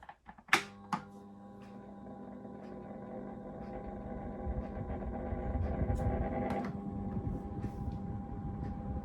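Xpelair Taurus T12 electric fan switched on at low speed with oscillation disabled: a couple of sharp clicks, then a steady motor hum and airflow whoosh rising and settling, close and without speech.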